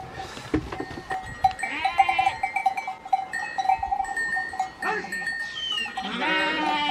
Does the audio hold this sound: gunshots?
no